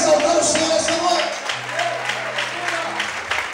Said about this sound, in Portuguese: Você pode aplaudir e exaltar o Senhor essa noite